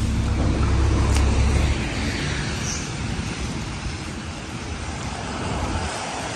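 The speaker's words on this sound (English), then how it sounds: "That's old bus, 2000 new flyer D40 left." A 2000 New Flyer D40 diesel bus pulls away with a broad, rumbling engine roar mixed with wind-like road noise, loud at first and then easing slightly as it departs.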